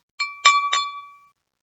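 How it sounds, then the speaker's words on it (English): A spoon taps a glass filled with water three times in quick succession, each strike ringing as a clear bright ding that fades gradually after the last tap in otherwise silent surroundings. "what you're hearing is you're hearing the vibration of the spoon hitting the glass."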